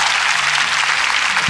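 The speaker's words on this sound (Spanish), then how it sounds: "Un aplauso por el cumpleaños de Noel, por favor" A studio audience in Peru breaks into a short burst of close, dense clapping for a birthday, loud and continuous throughout.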